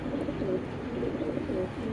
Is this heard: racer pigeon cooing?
yes